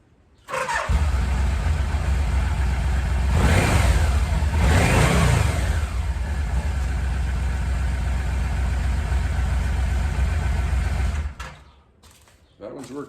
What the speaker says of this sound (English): Just started up the motorhome.